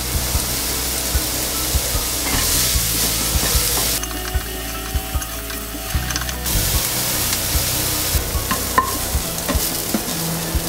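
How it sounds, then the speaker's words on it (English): Diced onions frying in a pan with Himalayan salt nearby, a steady sizzle broken by repeated scraping and tapping as a utensil stirs them, close and moderately loud, with a quieter, duller stretch in the middle. "I'm going to wait till the onion becomes slightly golden."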